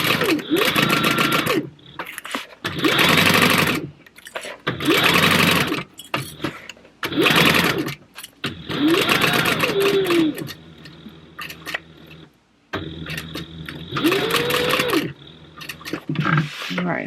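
A sewing machine stitches fabric for a Lost Boys food box, starting a quarter inch in with thread tails held, running in several loud bursts separated by short pauses, with talk between and over the runs.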